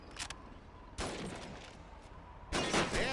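Gunfire at a shooting range in the video game Call of Duty 2, three sharp rifle shots spaced about a second apart, each followed by a ringing echo, fairly close with no talk.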